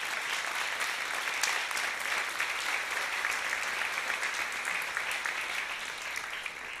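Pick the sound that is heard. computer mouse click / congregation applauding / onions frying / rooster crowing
congregation applauding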